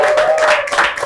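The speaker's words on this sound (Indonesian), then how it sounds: "tepuk tangan dong buat Geram." An audience at an anti-drug awareness event gives a short burst of loud, close applause, dense clapping throughout.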